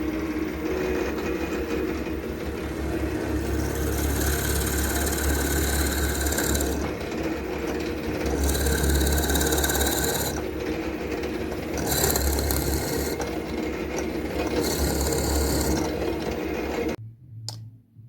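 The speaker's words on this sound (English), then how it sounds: "Here's the hole all the way drilled through, and you would have seen that I was retracting the drill bit quite a bit as I was drilling." A drill bores a hole through a wooden pen blank, its bit repeatedly retracted: a constant mechanical whir and rumble with five bursts of brighter grinding, each lasting a second or two, before the sound cuts off.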